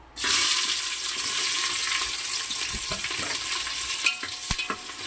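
Garlic frying in oil with bay leaf and cinnamon for a mutton curry: a loud, steady sizzle bursts in at the start and hisses on evenly, broken by a few soft stirring clicks near the end, with no talking.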